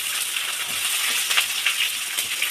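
Onions sauté in a pan with curry leaves and whole spices for a chicken gravy, giving a steady, bright sizzle with a few soft crackles, close and continuous without talk.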